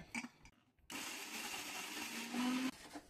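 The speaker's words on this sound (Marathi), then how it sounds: "आता आपण हे खजूर आहेत ना ते बारीक करून घेऊया, त्याची पेस्ट करूया" Dates ground to a paste in a kitchen mixer-grinder: a short whir, a pause, then a sustained motor roar of about two seconds that cuts off, fairly quiet overall.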